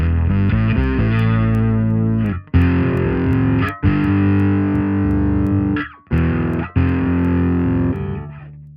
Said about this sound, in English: now you can hear the glitch in the background because this is the OC2.